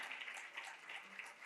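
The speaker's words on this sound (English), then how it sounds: "Let's keep clapping for her even as she walks on stage" Audience at an international conference in Durban clapping as a woman walks on stage, a soft, distant spatter of applause that carries on steadily throughout.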